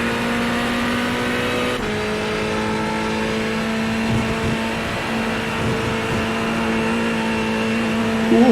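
A race car roars up through its gears at Spa in the iRacing simulator, with one loud, sustained engine note that climbs steadily and shifts once early on. No one speaks.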